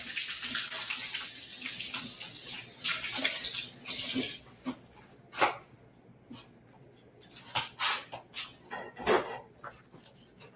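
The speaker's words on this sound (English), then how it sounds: "put this in the sink. Wash my hands right quick." Hands washed under a running kitchen sink tap, a steady rush of water for about four seconds, then quieter splashes and scattered clatters.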